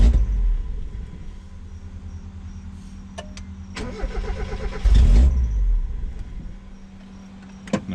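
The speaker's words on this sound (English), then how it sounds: "You go to start your car and it just immediately dies." A Mazda MX5 Miata with a fuel pump problem: the starter cranks in a short rough burst, the engine briefly catches with a low rumble, then it fades away to a faint hum.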